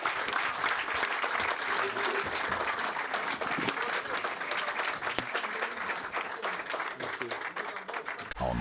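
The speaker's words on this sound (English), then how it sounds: "round of applause for Conor Benn" Studio audience applause for boxer Conor Benn, a long, steady wash of clapping from a crowd with faint voices mixed in, holding at an even level throughout.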